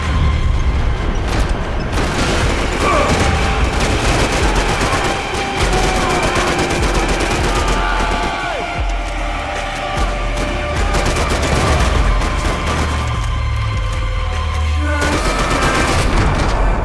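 Max Payne 3 airport runway firefight, with rapid bursts of video game gunfire and booming grenade explosions layered into a loud, continuous barrage that barely lets up.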